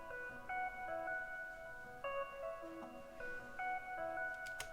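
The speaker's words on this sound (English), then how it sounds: "which is the Organic Rhodes Gentle and Noisy." Omnisphere 2 Organic Rhodes Gentle and Noisy preset plays soft electric-piano notes in a gentle repeating pattern over a faint noisy bed, held tones overlapping, moderately quiet and alone without talk.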